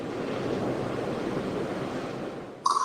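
Steady ocean surf washes in a continuous broad rush, fairly close and even, with a brief bird chirp cutting in at the very end.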